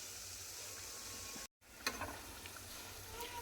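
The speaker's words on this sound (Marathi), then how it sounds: "छान क्रिस्पी असे तळून घ्या." Bread pakoda frying in hot oil in a wok gives a steady, fairly quiet sizzle with a brief dropout, then light bubbling crackles as the frying continues.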